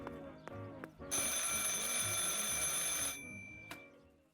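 An old telephone bell ringing in the video game Martha Is Dead, a long loud metallic ring between short clicks and chimes, with no talking.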